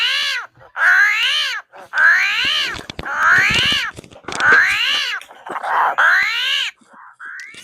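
Armadillo calls, a series of about six strained, rising-and-falling squealing grunts in an irregular rhythm, loud and close with short gaps between them.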